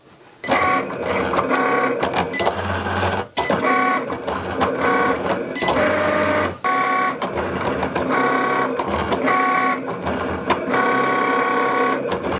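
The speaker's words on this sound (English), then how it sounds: "So now we'll go ahead and load our mat into the machine. This cuts with just the fine point blade. And we'll press go to cut." Siser Brick heat transfer vinyl cut on a mat by a vinyl cutting machine with a fine point blade, a steady mechanical whir and buzz of carriage motor moving back and forth, with brief pauses and clicks between strokes, loud and close throughout.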